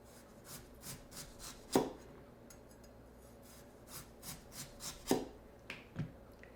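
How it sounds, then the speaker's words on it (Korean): A knife slices vegetables on a cutting board while preparing a soybean paste stew, producing quiet, close, rhythmic taps with a few sharper chops, unevenly spaced across several seconds. "이제 썰어줍니다."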